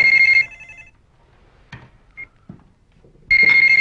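A mobile phone rings in bursts, a piercing electronic tone at the start, then a quiet gap with faint clicks and a short beep, and the ring returning loud at the end.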